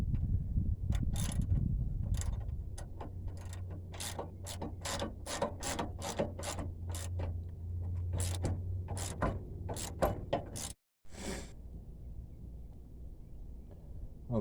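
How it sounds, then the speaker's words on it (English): A ratchet tightens the brake caliper bolts on a Ford Crown Victoria police interceptor, giving close, crisp bursts of rapid clicks with short pauses, a brief silent gap, then more ratcheting. "put your bolts back in here to hold the caliper on and tighten them up"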